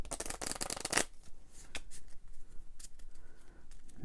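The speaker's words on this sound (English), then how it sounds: "And a shuffle." A deck of cards for the Dungeon Degenerates board game is shuffled by hand, with a dense close riffle burst followed by scattered softer card flicks and taps, fairly quiet, with no voices.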